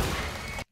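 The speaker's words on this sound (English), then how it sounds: "we have this explosion, and you could have easily made this explosion" Film-scene explosion sound effect: a dense, loud, broadband roar that holds steady and then cuts off abruptly into near silence, with no voices.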